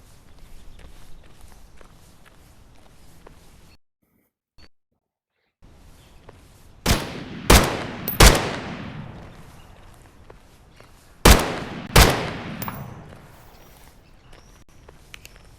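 Gunshots ring out in the VR shooter Geronimo: five sharp, loud cracks in two close groups, three and then two, after a stretch of near silence and faint background noise.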